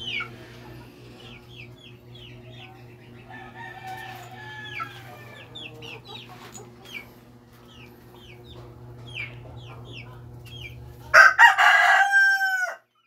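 Backyard chickens cluck repeatedly at close range over a steady low hum, ending in a loud burst of rooster crowing.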